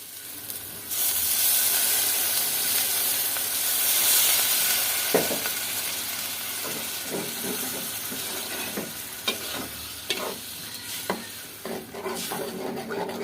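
Spices fry lightly in a steel pot over low heat, a soft steady sizzle with intermittent scraping and stirring clicks close by.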